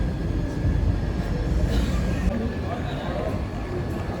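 Train rumble at Banaras railway station, a steady loud low roar running throughout with faint chatter of people around.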